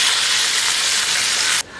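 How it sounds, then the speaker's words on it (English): Three cloves of minced garlic hitting oil and butter in a pan for a quick saute, giving a loud, steady sizzling hiss that cuts off abruptly near the end. "We're going to take 3 cloves of minced garlic. We're going to saute them up for a minute."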